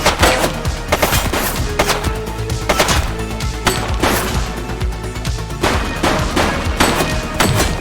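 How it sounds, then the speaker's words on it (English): Heavy exchange of gunfire in The Precinct, a police game, with rapid shots and bursts cracking in an irregular rhythm, loud and close, joined by occasional impacts and no talking. "He's shooting!"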